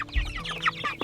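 Broiler chickens cluck close by in a few short, overlapping calls over about a second, fairly loud and with no talking.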